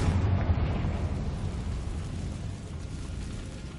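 A Confringo fire spell detonates in the video game Hogwarts Legacy, a loud, sustained rumbling blast with a low, booming roar that slowly decays over a few seconds, heard on its own without talk.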